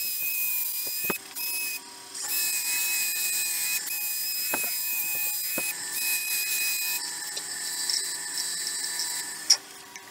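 A small high-pitched rotary sander buzzes steadily over cured resin, grinding off air-bubble bumps in a resin flower piece, with a few brief pauses and restarts; close and fairly loud, no talking.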